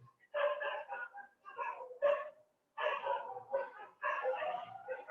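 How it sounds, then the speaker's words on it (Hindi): Dogs bark in loud, repeated bursts of several sharp barks each, with short pauses between, fairly close and without other sound. "ये क्या हो गया कुत्तों को, पता नहीं भौंके जा रहे हैं"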